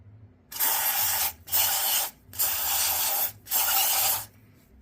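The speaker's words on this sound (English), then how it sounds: "So we'll get our intake valve and turbo cleaner." Four long, loud hissing bursts from an aerosol can of intake valve and turbo cleaner sprayed onto Hyundai Sonata engine valves, close up, separated by brief pauses, with no talking.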